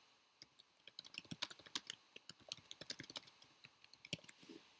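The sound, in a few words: typing on a computer keyboard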